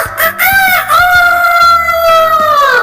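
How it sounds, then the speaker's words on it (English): A domestic rooster crows loudly and close in one long drawn-out call, with some clucking and other fowl noises underneath. "This is cock. The cock is called Dauladau in Bodo language."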